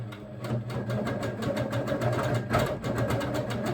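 An HQ longarm quilting machine stitches lines on ice-dyed fabric with a rapid, steady mechanical needle rhythm, close and continuous with a faint motor hum underneath.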